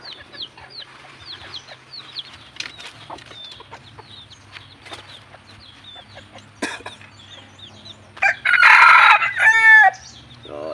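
Pure labuyo junglefowl roosters, the wild red junglefowl type, cluck softly in short repeated calls, then one crows loudly and close near the end, with faint background clucking continuing after.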